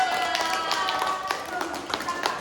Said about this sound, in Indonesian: beri tepuk tangan untuk ibu kita